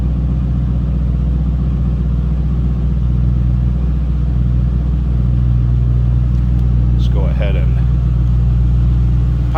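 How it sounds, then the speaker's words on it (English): A 2006 Ford Mustang Saleen S281 convertible with a 4.6 liter engine idles with a deep, steady rumble heard from behind the car, while someone talks over it. "Slip around to the back of this so you can hear this run. Good sounding car, nice rumble."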